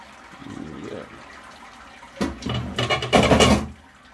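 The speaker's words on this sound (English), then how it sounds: "This is where we add our mash water." Mash water for a home brew pours into a sterilised bucket, first a soft trickle, then a louder splashing gush in short uneven bursts that grows stronger before stopping.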